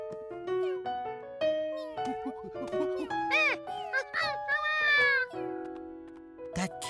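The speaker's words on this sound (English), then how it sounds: "That wasn't a puppy. That was a kitten." A small cartoon kitten meows repeatedly in high, wavering cries, close and fairly loud, with short pauses between calls.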